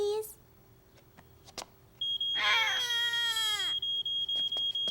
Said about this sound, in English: let's listen to the alarm again to recognize it